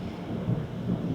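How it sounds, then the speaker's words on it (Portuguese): Thunder rumbling in a storm, a low, muffled roll that swells briefly twice over a soft, steady background, heard at a distance. "Olha o trovão."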